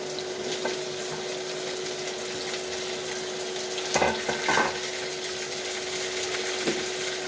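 Papaya frying in a pan while being stirred, a constant close sizzle with a few louder scraping stirs near the middle and a steady background hum.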